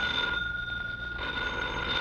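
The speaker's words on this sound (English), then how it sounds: "Don't answer it, Flora" A telephone bell rings loudly and steadily in a 1950s radio drama. It sounds alone, with no voices over it.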